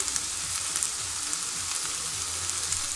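Garlic fries in a pan as the base for a mushroom risotto, a steady close sizzle with fine crackling throughout and no talking.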